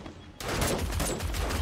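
Gunfire in the video game 7 Days to Die kicks in abruptly after a quiet moment, becoming a loud, rapid stream of overlapping shots that continues to the end.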